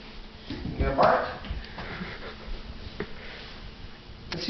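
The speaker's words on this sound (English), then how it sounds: "Let's hear your bark." A three-year-old dog, called a puppy, gives a short bark near the start among sniffs and soft whimpers, with people talking around it throughout.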